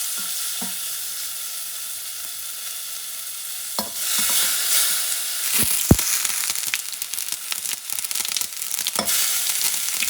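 Mushrooms frying in a pan over medium heat, a steady close sizzle that grows busier partway through, broken by occasional clicks and scrapes of a utensil moving them around, no voices.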